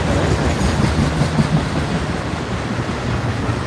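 A long CSX intermodal freight train rolls past on the Chattanooga line in Cowan, Tennessee, with close, continuous rumbling and rhythmic wheel clatter from the cars.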